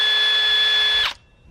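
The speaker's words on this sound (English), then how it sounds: "I got here a drill with this drill bit like that." A power drill fitted with a mixing bit whirs steadily and loudly at its highest setting while mixing packing paper or newspaper in a bucket, then stops abruptly about a second in; no one speaks.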